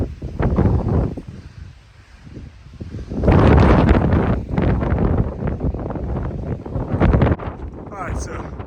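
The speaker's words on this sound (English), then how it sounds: "as you can tell, it's very, very windy" Strong wind gusts batter the microphone on an exposed mountain ridge above tree line in the Saddleback range of Maine, roaring in loud surges that drop and swell again over several seconds.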